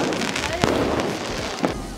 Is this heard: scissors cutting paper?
no